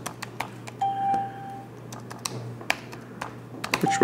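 Keys clacking on an ASUS Eee Keyboard, the all-in-one keyboard computer, during a typing game: scattered, irregular taps close up, with occasional short electronic beeps and no speech.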